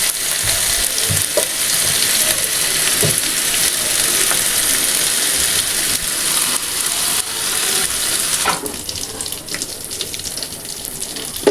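Beef seekh kebabs fry in a pan on a stove, making a loud, continuous sizzle with sputtering crackles and occasional clinks as pieces are turned. The sizzle eases slightly near the end, and no one speaks.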